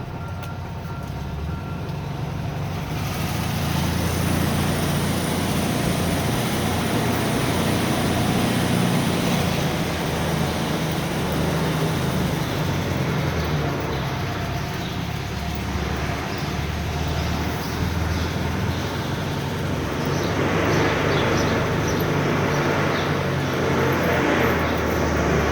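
A 1970 VW Beetle with an autostick gearbox climbs a ramp in low gear, its air-cooled engine giving a steady, loud, continuous drone with rough low rumble throughout, no voices over it.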